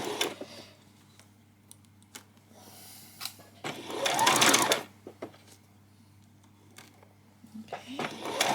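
Sewing machine stitching a ruffle on a peasant skirt, running in short, uneven bursts with louder whirring stretches mid-clip and at the end, fairly quiet and close with pauses between runs.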